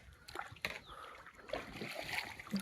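Boat travelling across floodwater on a relief trip in Assam, with gentle water sloshing and splashing against the hull and a soft trickle, fairly quiet and close with no talk.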